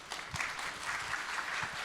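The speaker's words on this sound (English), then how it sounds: "Give a round of applause, everyone." Audience applause at a game industry conference session, a steady wash of clapping from a crowd in front of a stage, moderately faint and continuous for a couple of seconds.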